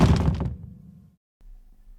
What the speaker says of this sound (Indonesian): Seketika suara pintu kamar ini kedengar dari arah kamarnya Kak Ismi